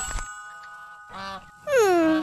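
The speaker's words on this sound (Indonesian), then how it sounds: "Angsa Atuk terlepaslah tu." A cartoon goose honks in a loud, drawn-out, wavering call that falls in pitch, preceded by a shorter nasal honk and a brief thump, in an animated setting.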